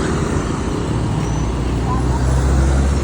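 Steady road traffic on Rovira Road in Bantayan, Philippines, with a continuous rumble of passing cars and engines close by and some distant voices in the background.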